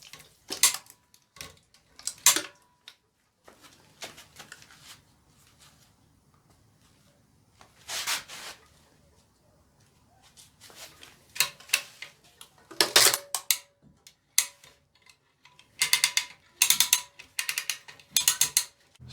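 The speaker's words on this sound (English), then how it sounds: "I'm going to hoist this thing because I'm tired of lifting heavy objects." Chain hoist raising a high-mileage GM Ecotec engine out of its bay, heard as bursts of ratcheting pawl clicks and mechanical clatter separated by quiet pauses, close by and fairly loud.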